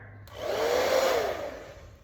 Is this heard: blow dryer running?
yes